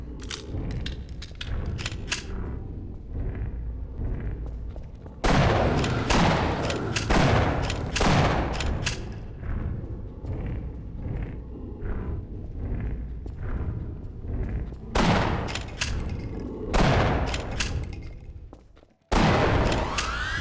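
Gunfire and grenade blasts in Half-Life: heavy bursts of rapid shots and booming explosions come in loud clusters, separated by quieter stretches with a brief cutout near the end.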